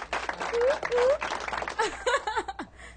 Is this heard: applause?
yes